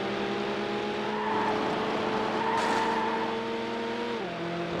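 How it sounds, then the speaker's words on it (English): A V8 race car engine from the racing video game Need for Speed Hot Pursuit 2 holds a high-pitched, sustained drone with harmonic tones that rise steadily, then drop sharply near the end as the gear shifts. "I mean, this is a V8 car. It's pretty high pitched,"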